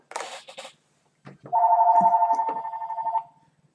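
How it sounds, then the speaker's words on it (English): A telephone rings indoors in a steady electronic trill lasting about two seconds, preceded by brief scattered knocks and clicks. "kind of stop the ringing of the phone."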